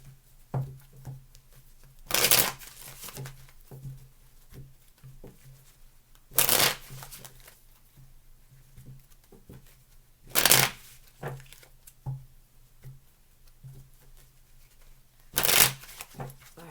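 Tarot cards being shuffled by hand, with four loud riffling bursts spaced several seconds apart and soft tapping and handling between them, over a steady low hum.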